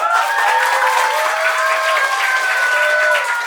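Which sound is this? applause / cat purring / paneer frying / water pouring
applause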